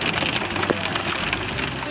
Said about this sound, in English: See, it is hailing right now.